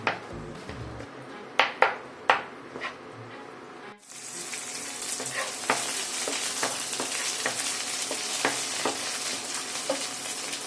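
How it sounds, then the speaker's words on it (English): Slit green chilies sauté in a hot pan with ginger, opening with a few sharp stir clatters before a steady, loud sizzle fills the rest, with scattered utensil taps throughout. "4 to 5 slit green chilies, and let's saute them well."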